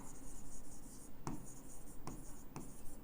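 Pen scratching across paper on a desk while bookkeeping entries are written out, soft steady scribbling with a few sharper tap-like strokes, close and quiet with no voices.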